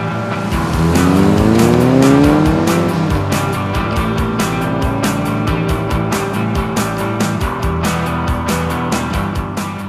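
Two Mitsubishis, one heavily modified and one stock, run a straight-line race. Loud engines roar close by, and rising rev sweeps with gear changes run under a steady, dense engine drone.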